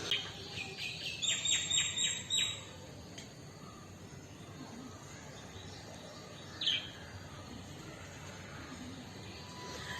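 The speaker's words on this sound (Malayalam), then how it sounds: "ഞാനിവിടെ നിന്ന് സംസാരിക്കുന്നത് കേട്ടിട്ടേ നമ്മുടെ കിളികൾ നന്നായിട്ട് ചലിച്ചുകൊണ്ടിരിക്കുകയാണ് കേട്ടോ" Birds chirp in quick repeated bursts early on, then a lone call later, over a steady outdoor background hum.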